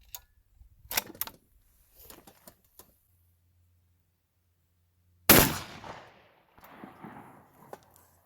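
A full bore 12 gauge rifle fired with a copper percussion cap and a round ball: one loud, sharp blast with a ringing decay, preceded by faint clicks and handling noises, with quieter rattles and movement afterward.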